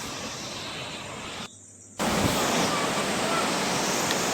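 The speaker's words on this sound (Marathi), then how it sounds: "हा असा छोटा धबधबा आहे छोटा नाही अगदी पाऊस असेल तर फार जोरात धावतो" Continuous rushing water from a small roadside waterfall in Konkan, a steady broadband roar that drops out briefly for a moment before returning at full strength.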